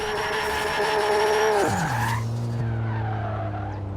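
A Nissan Skyline R31 with an upgraded single turbo in Forza Horizon 3 revs high, then the engine note drops sharply and settles into a lower steady drone, with tire noise and skidding mixed in.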